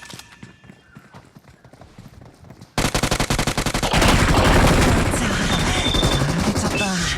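Rapid automatic machine gun fire in the mobile battle royale game BGMI on the Erangel map, loud dense bursts that start abruptly and continue steadily, with other game sounds mixed in.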